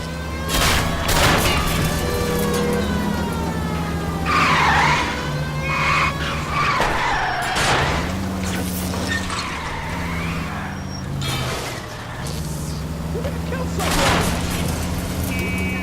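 Tires skid and screech through a car chase in L.A. Noire, long squealing slides over a roaring engine with crashes and bumps, while a voice talks over the action.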